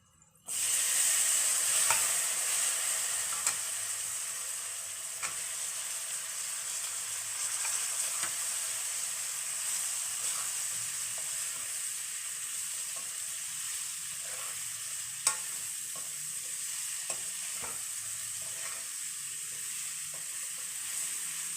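Indian gooseberries (amla) frying in a pan with green chillies and a little Kashmiri red chilli over medium gas. A loud, steady sizzle and hiss continues throughout, with occasional scrapes from stirring.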